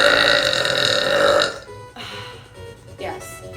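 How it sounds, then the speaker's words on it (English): A long, deep, rumbling burp from a woman fills the first second and a half, loud and close, followed by quieter breathing and faint sounds. "I have the biggest burp in my tummy in the whole entire world, I swear."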